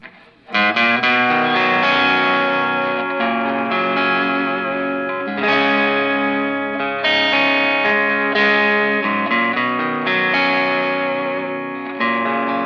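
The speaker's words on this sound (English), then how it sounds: "a real nice, smooth distortion sound" An electric guitar played through an Eric Gales Brute Drive distortion pedal, gain near nine o'clock, rings out in smooth, sustained overdriven chords and notes, each left to decay before the next is struck, with no talking.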